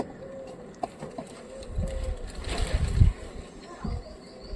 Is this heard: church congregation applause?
no